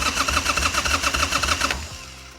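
A 1989 Harley-Davidson Sportster engine, dead for years with worn points and no spark, cranks over on the starter in a steady rhythmic churn for under two seconds without firing, then the motor falls silent.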